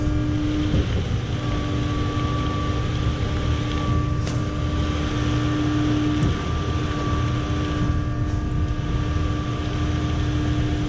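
A concrete pump truck's engine runs steadily at raised RPM with a constant droning hum and faint whine, heard alone with wind noise throughout.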